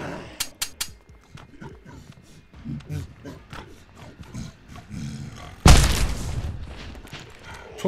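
A grenade explodes in the video game The Last Stand Aftermath: one loud, sudden blast cuts in after a stretch of talking and scattered game noise, then a rumbling tail that fades.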